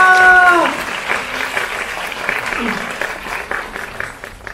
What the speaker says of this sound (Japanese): 改めてご来場の皆さんに大きな拍手お願いいたします。